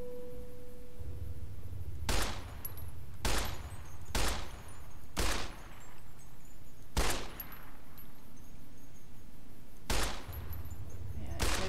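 Gunfire in a modded Fallout game: seven sharp, loud shots ring out at irregular intervals of one to two seconds, each with a short echoing tail, over a quiet low background.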